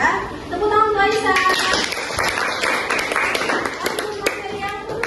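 A school classroom audience applauds with a burst of uneven hand clapping, mixed with children's chatter and voices throughout.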